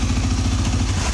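A 2020 CF Moto Cforce 600 ATV fitted with a Uni foam air filter runs close by, its engine giving a steady, throbbing low pulse with a rough mechanical buzz over about a second.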